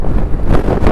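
Strong, steady wind buffets the microphone, a dense low roar with gusty swells under a darkening stormy sky in Chennai.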